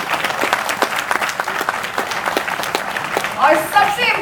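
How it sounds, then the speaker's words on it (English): A corporate event audience in Delhi gives a round of applause, a sustained wash of many clapping hands with some voices, swelling a little louder near the end. "A big round of applause for them as well."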